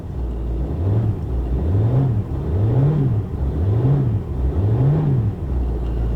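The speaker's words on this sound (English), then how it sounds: "it already revs a lot freer" Range Rover TDV8 diesel engine after a remap and EGR delete, revved five times in an even rhythm, each rev rising and falling smoothly, moderately loud and close with no voices.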